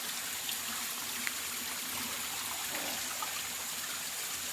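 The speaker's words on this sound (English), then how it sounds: "There's another beautiful waterfall up there." A wilderness stream flows near a waterfall, a constant soft rush of water with faint trickles and splashes, steady and moderately quiet with no talking.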